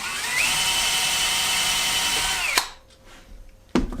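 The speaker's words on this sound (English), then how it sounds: "And pre-drill this one." A power drill pre-drills holes in a CNC machine table setup, a steady loud whine with a quick spin-up, running for about two and a half seconds before cutting off, followed by a short second burst.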